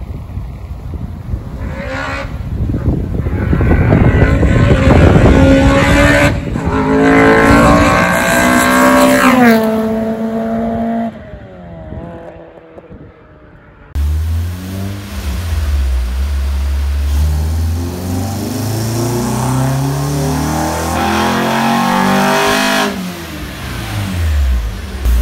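A loud, close tuned ethanol-fuelled Nissan SR20VE car engine revs up and down repeatedly, rising to a roaring pitch, then settles into a heavy rumbling idle and revs again.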